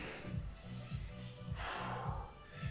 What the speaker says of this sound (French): Je souffle, je souffle.